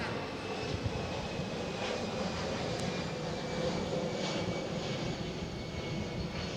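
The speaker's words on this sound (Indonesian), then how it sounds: "suara pesawat" An airplane passes overhead during an outdoor interview at a Jakarta high school, a steady broadband engine roar that holds at an even level for the whole stretch, with no speech over it.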